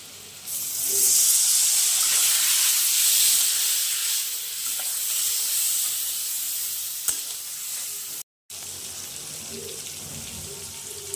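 Water poured into spice paste frying in a pan for a Bengali pabda fish curry with potato and tomato, a loud hissing sizzle that rises sharply then settles into a softer, steady crackle with a brief clink of utensils.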